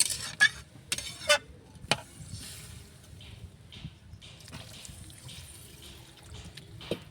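Water is poured into a simmering curry of cauliflower, tomato and taro, a soft, faint trickle with a few light clinks of a pot at the start.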